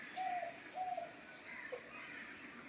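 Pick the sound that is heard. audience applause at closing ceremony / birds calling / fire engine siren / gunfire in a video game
birds calling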